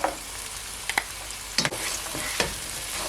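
Carrot and cabbage frying in a pan over low to medium heat, a soft hiss with a few sharp clicks and scraping stirs, close by and without voices.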